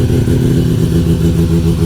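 A bridge-ported rotary engine revs loudly and close, a dense, choppy, brappy idle with rapid pulsing combustion and no voices.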